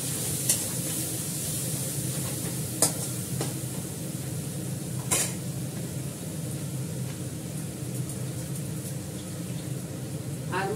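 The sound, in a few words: onions frying in a pan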